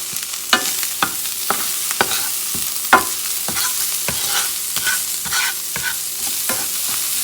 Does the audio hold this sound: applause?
no